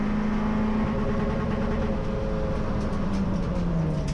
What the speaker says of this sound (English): you'll hear he's hitting the rev limiter.